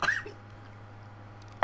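A person coughs sharply while drinking Gatorade, one loud cough at the start, a quiet stretch, then another abrupt close cough at the very end.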